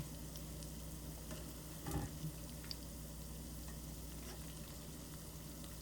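Shrimp and eggplant balls fry in a pan with a steady, even sizzle throughout, broken around the middle by a brief louder clatter and splash as they are flipped over.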